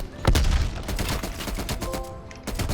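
Rapid light machine gun fire in Black Ops Cold War, dense bursts of shots with booming impacts, loud and continuous with only brief gaps.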